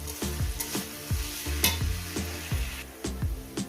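Radish frying with small pond fish in a pan, a steady bright sizzle with repeated rhythmic scrapes of a spatula stirring the mixture, close and fairly loud with no talking.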